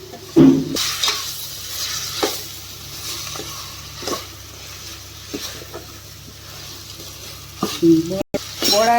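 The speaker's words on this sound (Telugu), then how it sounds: "కరకాయలు కొంచెం ఫ్రై అయినాయి" Bumpy bitter gourd (boda kakarakaya) fries in a pan with a constant close sizzle, punctuated by repeated scraping stirs and an occasional clink of a spoon against the metal.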